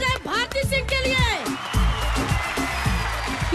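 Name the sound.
audience applause for Bharti Singh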